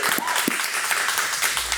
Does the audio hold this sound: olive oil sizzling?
no